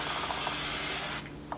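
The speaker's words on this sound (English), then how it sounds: "Just spray it directly to the hairline" A continuous broad hiss of spray is applied directly onto a wig hairline, steady and close for over a second before cutting off, followed by faint light taps.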